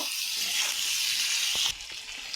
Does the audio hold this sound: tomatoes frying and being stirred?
yes